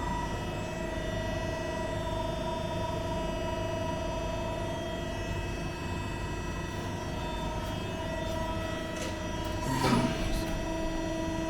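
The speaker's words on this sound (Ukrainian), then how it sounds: "Це кромкогіб." A press brake edge-bending machine in a metal workshop hums steadily for the whole stretch, with a brief louder burst of mechanical noise near the end as a part is bent; no one speaks.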